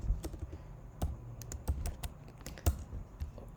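Computer keyboard typing while code is edited in a Spring Boot Hibernate JPA project: a quick, irregular patter of close, crisp key clicks with a few heavier strokes, no voices.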